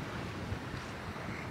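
Steady wind buffets the microphone on a beach at Totland, Isle of Wight, during sea fishing, a constant loud rushing roar with no breaks.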